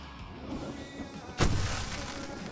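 A single loud gunshot or explosive blast in the video game Alan Wake Remastered, a sharp broadband burst followed by a decaying rumble over a steady ambient game background.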